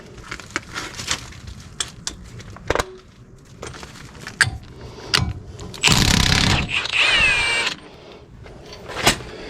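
A Milwaukee M18 Fuel cordless impact wrench hammers briefly on a 35 mm axle nut of a first-generation Toyota Tacoma, one loud close burst of about two seconds amid scattered clanks and knocks from the tools.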